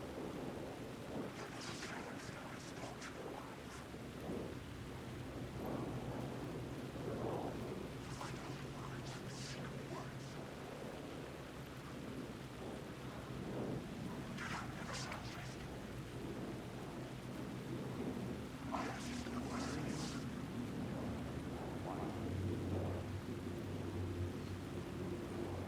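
Steady heavy rain with rolling thunder fills a dark city scene in the video game Alan Wake 2, a continuous dense wash with several sharper crackling surges scattered throughout and low rumbles underneath.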